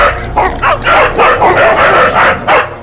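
Several dogs barking loudly and close in a hillside territory, rapid overlapping barks and yips in a continuous volley with brief whimpering tones, no speech.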